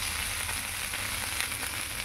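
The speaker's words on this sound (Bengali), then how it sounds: "আমরা ভাজতে বসিয়ে দেবো।" Boiled potatoes with chopped tomato sizzle and fry steadily in a pan for aloo torkari, a close, even crackle with no talking.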